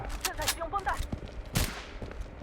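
Gunshots in the mobile shooter Blood Strike: a few sharp cracks, including one heavy shot near the middle, sit among game sounds and other effects, fairly close and moderately loud.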